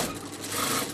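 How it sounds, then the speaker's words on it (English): A sewing machine runs steadily, stitching a straight seam along the edge of neckline binding over piping cord, a continuous close, even mechanical whir for about a second with no talking. "at the moment I'm just doing a straight seam close to the edge of the binding"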